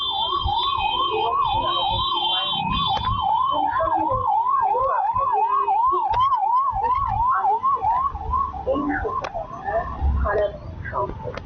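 A wailing siren rises and falls steadily and quickly throughout, loud and close, over traffic rumble and some background voices.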